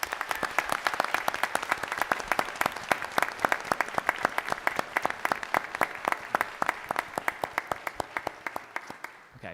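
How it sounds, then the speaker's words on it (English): Round of applause at a board of education meeting, a steady patter of many hands clapping in a room, sustained and fairly loud before tapering off at the end. "Can we please give them a round of applause?"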